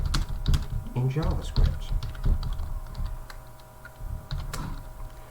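A snippet title being typed on a computer keyboard produces rapid, irregular clicks and taps, close and crisp, while a person speaks briefly over the keystrokes.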